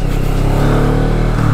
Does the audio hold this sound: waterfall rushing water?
no